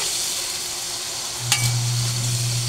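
Ground pork sizzles steadily in a hot pan and is stirred, with a scrape of the spatula partway through, after which the frying grows louder and fuller, close up and with no talk.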